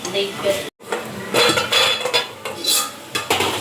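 Metal lid set down on a pan of lightly cooking onions, giving several clanks and scrapes of cookware, loud and close, with a short silent gap near the start.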